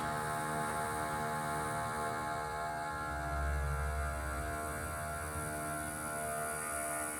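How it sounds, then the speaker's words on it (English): A smoke machine runs steadily during an evap leak smoke test on a Mazda 6 with a small-leak fault, giving a constant close mechanical hum with a fast ticking rhythm and no let-up. "I'm gonna activate the smoke machine"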